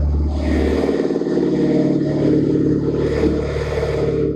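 A Citroen C5's engine idles and hums steadily nearby while its hydropneumatic suspension lifts the rear of the car, a loud, even drone with a slight swell in pitch partway through and no voices.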